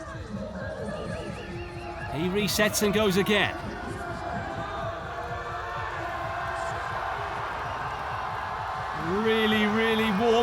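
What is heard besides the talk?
crowd at a strongman competition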